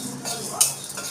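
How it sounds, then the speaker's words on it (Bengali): Black peppercorns dry-roasting with a little cumin in a wok, heard as a brief soft scraping stir with one sharp metallic clink midway. "আমি দুটো গোলমরিচও একটুখানি কড়াইতে দিয়ে একটু ভেজে নিচ্ছি"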